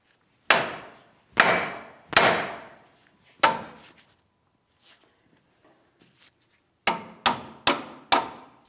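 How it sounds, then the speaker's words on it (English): Sharp metallic hammer blows strike a steering knuckle on a 2007-2014 GMC Sierra 2500 HD in bursts, four spaced hits, a pause with small clinks, then four quicker strikes, each ringing briefly before fading. "We're going to tap on the steering knuckle with a hammer, causing vibration."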